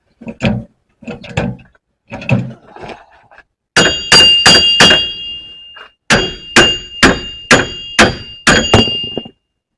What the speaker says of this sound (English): we shall keep literally hammering away at it